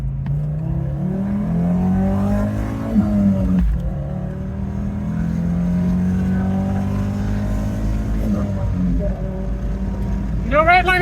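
An Audi 4000 Quattro engine climbs through the revs under acceleration, its pitch rising in repeated sweeps toward redline between gear changes, loud and close from inside the car, with a brief voice near the end.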